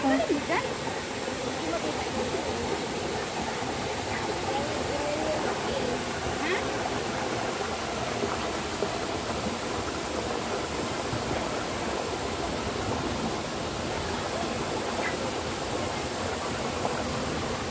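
Water rushes steadily at a waterfall along the Little Hawaii trail, a constant broadband roar filling the whole clip, with people chatting faintly beneath it.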